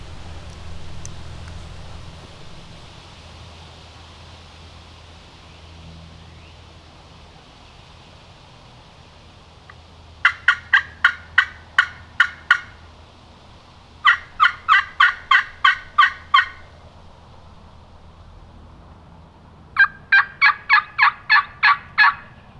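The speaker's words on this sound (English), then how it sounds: "Did you hear that turkey gobble?" Wild turkey gobbling outdoors in a quiet, breezy woodland, three distinct rattling bursts of rapid gobbles, fairly loud and clear against a low rustling background.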